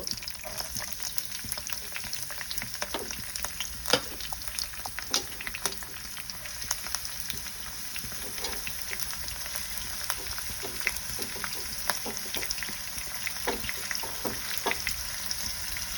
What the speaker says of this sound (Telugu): ఉల్లిపాయలు ఏంటంటే బాగా బ్రౌన్ కలర్ వచ్చే వరకు ఫ్రై చేసుకున్నాము